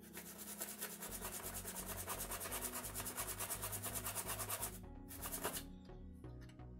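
Corroded battery contacts in a Nintendo Game Boy are scrubbed with isopropanol. The result is a quiet, rapid, rhythmic rubbing and scraping that continues steadily, briefly pauses, then resumes more softly.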